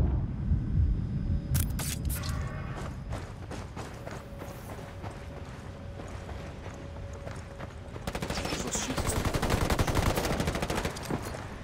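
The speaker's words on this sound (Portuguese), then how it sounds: "Estão atirando, mas que porra!" Gunfire rattles through a multiplayer Ghost PvP match. Rapid automatic bursts and single shots repeat densely for about twelve seconds, and a heavier, louder volley builds near the end. Constant background game noise runs underneath, with no speech.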